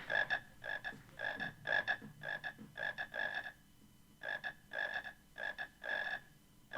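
A chocolate frog in a Harry Potter video game croaks in rapid, rhythmic bursts, clear and close, repeating steadily with a short pause midway.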